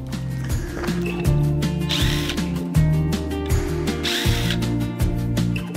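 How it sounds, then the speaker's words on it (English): A power drill drives a screw to fasten a pool noodle in a donkey and horse enclosure, its motor whirring up and down in close, loud repeated bursts with a ratcheting edge and no talk. "I'm gonna need to get the drill."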